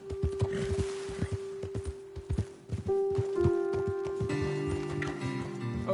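Horse hooves clip-clop in Red Dead Redemption 2, a busy run of close, uneven thuds over a steady held tone, with brighter layered game tones joining midway.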